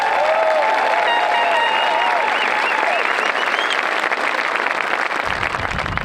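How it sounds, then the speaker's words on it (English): A graduation crowd applauds the high school class of 2023, loud dense clapping filling a large room and holding steady throughout, with faint cheers rising over it early on. "A final round of applause for the class of 2023."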